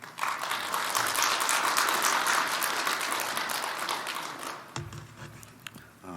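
A church congregation at Fullerton Presbyterian Church bursts into loud, dense applause to welcome a missionary to the pulpit, sustained for several seconds before tapering off into room noise and a few low thumps.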